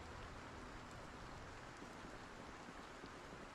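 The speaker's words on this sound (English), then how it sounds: "It's still raining." Steady rain hisses in a video game, a continuous broadband wash with faint droplet ticks and no voices, even in level throughout.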